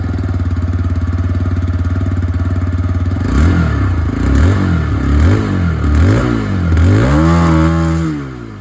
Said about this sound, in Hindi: जो एग्जॉस्ट साउंड है वो भी मैं आपको सुना दूँ